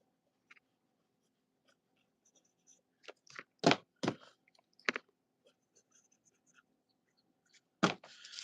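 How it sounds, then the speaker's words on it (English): Handwriting a note, with sparse scratchy pen strokes and a few louder scribbling bursts between quiet gaps, close and dry, no speech. "Let me write that down."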